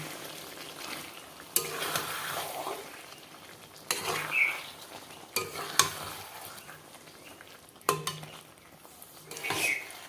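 Chicken stirred together with yogurt in a frying pan, faint sizzling beneath intermittent scrapes and clinks of a spoon against the pan, with quiet stirring passes repeating every couple of seconds.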